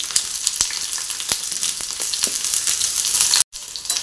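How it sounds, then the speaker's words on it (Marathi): Stuffed okra fries in oil with a loud, continuous sizzle and crackle, marked by scattered sharp pops and light knocks. Just before the end the sound cuts out completely for a moment, then resumes, and no voices are heard. "आता आपण भरलेली भेंडी ह्याच्यामध्ये सोडूया, टाकून घेऊया तेलावर।"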